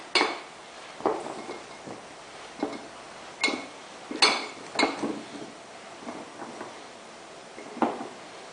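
Small glass jars clink and knock as they are packed with little pickled cucumbers, in scattered separate taps and rattles with quiet gaps between them, close and fairly crisp, with no talking.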